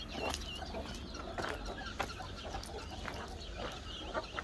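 Guinea fowl chicks chirp outdoors in quick, scattered peeps, faint and slightly distant, over a low background hum.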